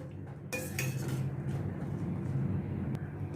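Saffron-soaked milk is stirred into Kashmiri pulav in a pot, a few sharp metallic spoon clinks against the vessel up front, then a soft steady scraping and stirring with low kitchen background noise.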